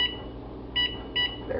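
An oven timer beeps with two short, bright electronic tones a fraction of a second apart over a low kitchen hum.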